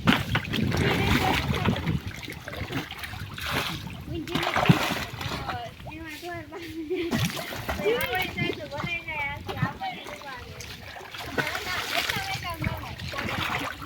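A bucket is tossed into a rural outdoor water pool, giving a splash and sloshing water amid steady background noise while people talk and shout nearby.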